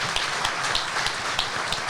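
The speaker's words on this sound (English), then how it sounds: "these legends, and there are a few legends in this room today, have driven from Belfast for this event, so we have to give them a round of applause" A live studio audience at a car-show event claps for guests who drove from Belfast: a short, steady patter of many hands, moderately loud and continuous throughout, with no voices on top.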